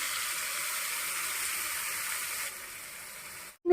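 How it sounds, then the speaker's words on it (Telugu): Ground paste from the mixer tipped into a hot tempering for a cucumber chutney, giving a steady, close hiss of sizzling oil that fades slightly near the end before a brief clatter cuts it off. "ఇప్పుడు నేను ఆల్రెడీ మిక్సీలో పట్టుకున్నాను కదా పేస్ట్ సో దాన్నేమో ఇందులో వే వేసేస్తున్నానండి"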